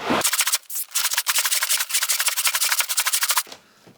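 A brush scrubs hard at a dirty car thickly caked in grime: fast, steady back-and-forth rasping strokes, close and loud, running for about three seconds before stopping.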